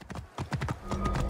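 Horse hooves clip-clop in a steady trotting rhythm, close and clear, in the Assassin's Creed Origins video game set in ancient Egypt, with faint ambient sound beneath.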